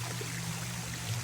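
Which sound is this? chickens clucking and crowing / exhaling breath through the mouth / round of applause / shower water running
shower water running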